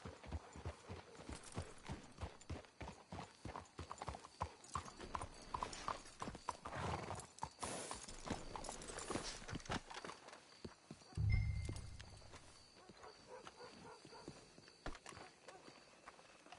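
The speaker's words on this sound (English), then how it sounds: "Let's hitch your horses up ahead." Horses in Red Dead Redemption 2 walk with rhythmic, close hoof clip-clops, followed by a brief low snort, while people talk quietly.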